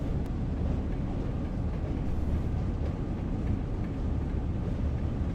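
A train rolls downhill and gathers speed between Manchester and Leeds in Train Sim World, a dense steady rumble of wheels and carriages at close range with no pauses and no voices.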